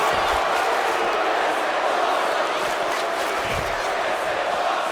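A large arena crowd roars and cheers steadily in the wrestling game WWE 2K25, a loud, continuous wash of voices with a few louder swells, and a commentator talks over it.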